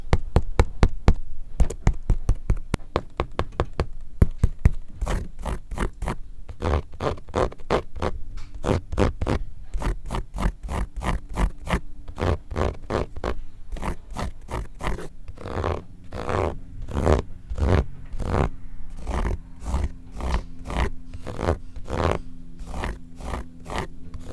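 Rapid, sharp taps and clicks ring out on the leather and plastic mud guards of Jordan 12 Taxi sneakers, dense and irregular at first, then spaced into steady close rhythmic knocks throughout.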